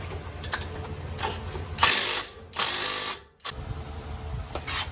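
Ratchet tightening 17 mm brake bolts during a front brake and rotor job on a 2010 Toyota Sequoia, with rapid clicking bursts in two loud stretches amid quieter workshop handling noise.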